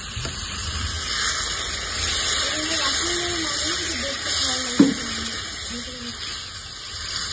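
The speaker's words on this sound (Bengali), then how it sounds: "একটু জল দেবো, আলু পটল জলে একটু ফুটতে হবে।" Water gushes steadily into a pan of potatoes and pointed gourd for a shrimp curry, a continuous close pour with a faint voice underneath.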